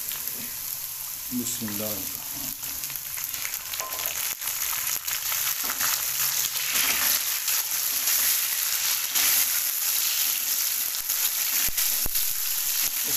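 Tomatoes frying in a pan for daal mash fry: a steady, moderate sizzle with occasional stirring scrapes, while someone speaks briefly near the start.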